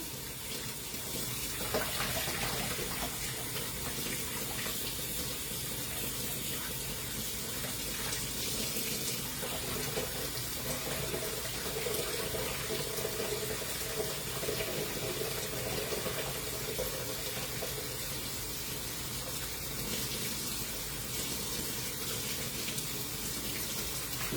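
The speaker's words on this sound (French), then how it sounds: "je fais couler l'eau pour avoir de l'eau bouillante" A kitchen tap runs steadily while someone waits for the water to turn boiling hot for a Carambar upside-down tart, a continuous hiss and splash into the sink with no talking.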